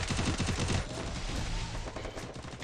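Rapid gunfire in a 4v4 shooter video game match, several quick bursts of automatic shots up close, loud and dense at first, then continuing a little quieter.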